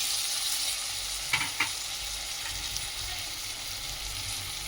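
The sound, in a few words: beans and vegetables added to frying pan and stirred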